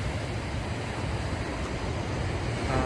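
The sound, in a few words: ocean waves on the California coast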